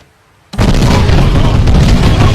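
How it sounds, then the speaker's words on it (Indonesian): A loud explosion tears through a government minister's house in a film scene, a sudden broadband blast after half a second of near silence, then sustained roaring rumble and debris noise. "di rumah menteri terjadilah ledakan dan membuat semua orang tewas"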